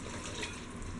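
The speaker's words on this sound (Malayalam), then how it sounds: "അരിയുടെ മേലെ നിൽക്കുന്ന അത്രയും വെള്ളം ഒഴിച്ചു കൊടുക്കുക." Water being poured over rice in a pot while making Kerala-style beef biryani, a short steady splashing trickle, close and fairly quiet, with no voices.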